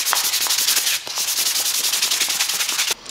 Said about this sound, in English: I'll start over sanding from 220 up to 400.